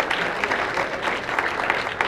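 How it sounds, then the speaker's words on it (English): An audience at a youth awards dinner applauds the evening's mentors, a dense, steady burst of clapping from a crowded room. "big round of applause for all of our mentors tonight"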